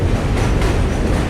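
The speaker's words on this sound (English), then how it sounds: "I'd rather deal with the subway going by like this" A New York subway train rumbles past on a weekend, a steady, loud, close roar with broadband rail noise and faint clickety-clack throughout.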